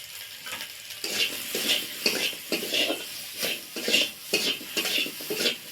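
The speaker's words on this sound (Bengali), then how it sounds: "সব মশলাগুলো দিয়ে একটু নেড়ে চেড়ে" Ground spices with salt, coriander, cumin and turmeric are stirred in a sizzling pan for a sour mango and mourala fish dish, rhythmic scraping strokes of a spatula repeating about twice per second over a soft fry.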